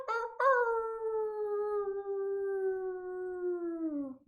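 A person imitates a wolf howl as one long sustained vocal note, starting with a brief yip, holding steady and then sliding down in pitch at the end, clear and close with no other sound.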